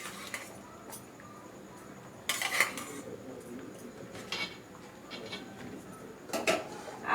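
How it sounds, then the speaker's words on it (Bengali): Pumpkin pieces dropped into a pot of simmering rice-and-lentil khichuri give a few clattering knocks and scrapes of metal utensils against the pot, in two or three short bursts over a low kitchen background. "তার মধ্যে এখন কুমড়োগুলো দিয়ে দিচ্ছি।"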